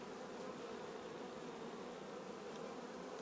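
A soft, even hum of honey bees fills the middle of an open hive full of pollen and capped honey. The faint buzzing holds steady and unbroken for the few seconds, with no talking.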